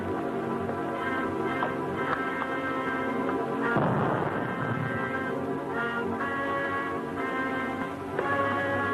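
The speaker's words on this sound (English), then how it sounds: "I heard an explosion." A sudden burst in an old 1944 film, the car's engine exploding after smoke was seen coming from it, rising over a steady background of orchestral score and fading after a couple of seconds.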